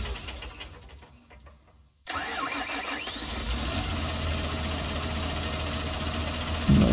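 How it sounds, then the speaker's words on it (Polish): Deutz Fahr Warrior Series 9 tractor engine in Farming Simulator 19, heard from inside the cab: a quieter rumble, then a sudden loud steady mechanical drone with a knocking diesel character that holds on. "w środku lepiej słychać ten ciągnik"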